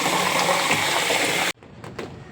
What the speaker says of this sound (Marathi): आपण हे आता पाण्यात घालणार आहोत